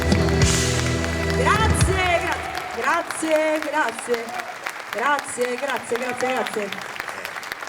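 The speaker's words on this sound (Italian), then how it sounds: "Voglio sentire un bel applauso per questa canzone." Audience applause at an outdoor evening concert in Piazza Manzoni, Jesolo, breaking out after a song, with bursts of clapping under music fading and a singer talking over it.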